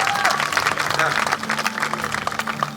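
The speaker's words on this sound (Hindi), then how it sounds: "एक बार प्राइम टीवी के लिए जोरदार तालियां बजाइए।" Applause from the audience at a Hindi poetry gathering (kavi sammelan), a brief burst of clapping heard alongside voices and crowd murmur.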